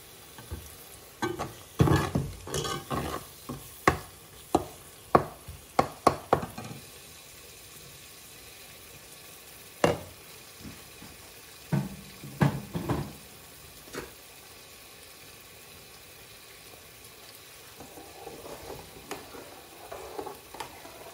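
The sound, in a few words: spice paste frying and being stirred in a pan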